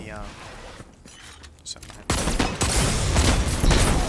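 Rapid hand cannon gunfire in the video game Destiny 2, a burst of loud sharp shots with a fast, uneven rhythm following a quieter stretch of mechanical game sounds.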